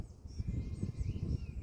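Sheep bleating on a farm near Castle Ashby, a few short, low calls rising over an outdoor breeze at moderate distance, with no talk alongside.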